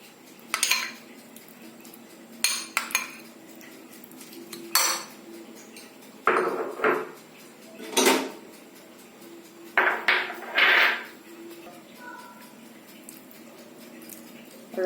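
Hung curd falafel mixture being mixed in a bowl, with sharp clinks and scrapes of a utensil against the bowl coming in irregular bursts between quieter stretches.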